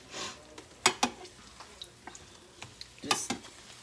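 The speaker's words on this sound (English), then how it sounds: "frying these in a little bit of peanut oil." Corn and flour tortillas frying in a little peanut oil, giving soft sizzling crackles with a few sharper pops and utensil clicks, close and fairly quiet with no talk.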